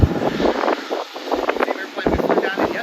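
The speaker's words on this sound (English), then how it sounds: "it's very windy today" Strong wind buffets the microphone at a busy airport, a steady low roar with gusty surges and rumbling bursts throughout, while a voice talks over it.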